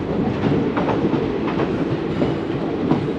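A 23-coach Sabari Express passenger train runs on rails between Coimbatore and Thiruvananthapuram, heard from inside as a loud, steady rumble with rhythmic clickety-clack wheel beats.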